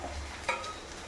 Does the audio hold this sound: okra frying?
yes